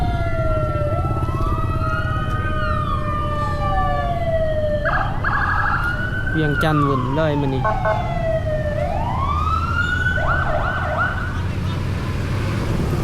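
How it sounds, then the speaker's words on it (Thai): A fire truck siren wails, sweeping up and down repeatedly, mixed with rapid yelping bursts, over Vientiane street traffic during a storm-caused fire, with a voice speaking briefly. "รถดับเพลิงมาเนาะ"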